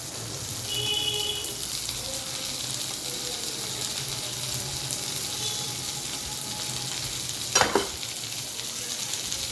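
Chopped tomato stirred and frying in a pan, a steady low sizzle running throughout with a brief sharper scrape of the spoon near the end, no talking.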